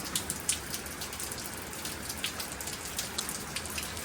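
Steady, dense rain pours down with scattered droplet taps on surfaces, an even hiss throughout.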